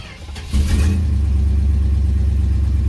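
A carbureted car engine is cranked with the key after a few pedal pumps, catches about half a second in and settles into a steady, loud low rumble at a fast idle with the choke on, with no talking.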